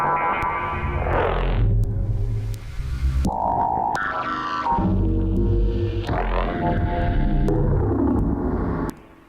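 An American Werewolf synth preset in Bitwig plays a run of gritty, distorted electronic notes with sweeping filter changes, growling bass and sharp transient clicks, loud and continuous before ending abruptly.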